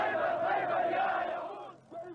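An angry crowd of protesters shouts in the streets of Khartoum after Friday prayers, a dense, sustained roar of many raised voices that fades toward the end.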